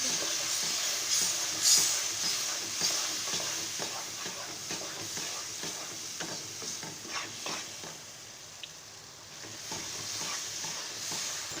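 A spoon stirs suji halwa cooking with milk in a pan over high heat, giving a steady, continuous scraping and swishing with a soft sizzle underneath, close and moderately loud throughout with no talking.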